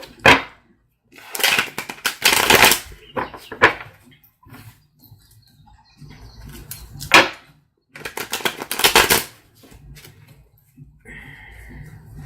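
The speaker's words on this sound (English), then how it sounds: "Let's get a little bit more shuffle on there." Quick bursts of a tarot card deck riffling and snapping together, repeated several times with short pauses between, close by and fairly loud.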